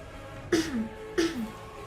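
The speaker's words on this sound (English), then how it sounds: "Sorry, I have a bit of a cough." Two short, throaty coughs about half a second apart, close and fairly loud, with quiet between them.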